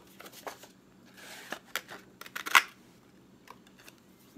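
Scissors cutting out a paper circle, close and quiet: a series of short crisp snips and rustles, irregular, with a louder cluster near the middle and nothing spoken.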